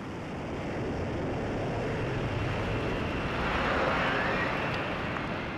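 Lockheed fighter jet hovering on its lift fan, a steady broad roar of jet thrust heard from a distance, sustained and even with no voices.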